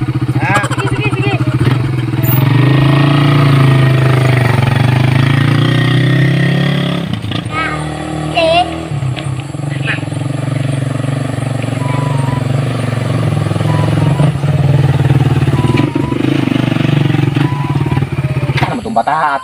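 A borrowed motorcycle engine runs steadily and loudly throughout, a low continuous drone with slight shifts in pitch, while people talk over it.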